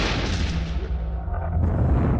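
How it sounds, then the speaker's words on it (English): An explosion and fire at an oil rig in the Gulf of Mexico, heard as a loud, sustained roaring boom that rumbles and fades before swelling again. "11 people are missing after an explosion and fire at an oil rig in the Gulf of Mexico"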